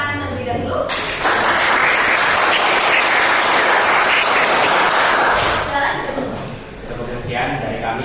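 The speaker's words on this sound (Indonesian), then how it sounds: "kita beri tepuk tangan terlebih dahulu" Audience applause in a school presentation setting swells loudly, a thick sustained roar of many hands clapping for about four seconds before tapering off, with speech before and after.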